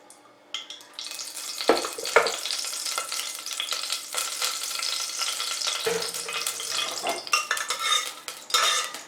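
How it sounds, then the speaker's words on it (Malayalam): Two tablespoons of ghee sizzle in a heated pressure cooker, with a spoon clinking and scraping against the metal in quick bursts over a steady frying hiss; no talking. "അപ്പോൾ ഇതിലേക്ക് ഒരു 2 ടേബിൾ സ്പൂൺ നെയ്യാണ് ഞാൻ ഒഴിച്ച് കൊടുക്കുന്നത്"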